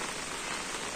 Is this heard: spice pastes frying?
no